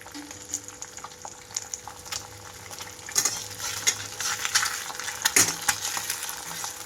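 An egg omelette frying in a pan for egg curry over low to medium flame, steady sizzle with occasional scrapes and taps of a spatula against the pan, close and without talk.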